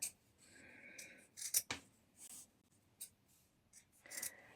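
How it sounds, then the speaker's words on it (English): Scissors snip through a denim belt loop in several quick, sharp cuts with short pauses between, close and fairly quiet, with no talking. "Now cut your belt loop into 5 8cm pieces."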